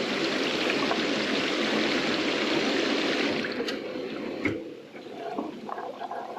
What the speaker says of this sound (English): And you can kind of hear that water